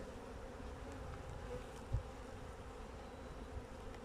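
Honeybees buzz steadily in an opened hive during a late-season inspection, a dense continuous hum filling the space with little change, close and alone apart from one brief knock.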